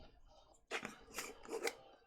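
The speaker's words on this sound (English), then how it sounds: "I'm just gonna snip it down here." Small scissors snip embroidery thread during hand stitching, a few quick close metallic cuts after a quiet moment, clustered in a short burst.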